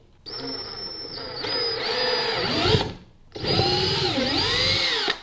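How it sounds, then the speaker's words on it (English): A power drill whines steadily at close range, bogging down as it bites into a Harley Tri-Glide trike trunk through a pilot hole, pauses briefly, then spins up again for a second long run. "He's gonna start drilling, making sure he's lining it up there with his pilot hole."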